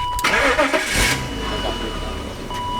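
A BMW E36 M3 engine cranks and catches, then settles into a steady, loud idle close by.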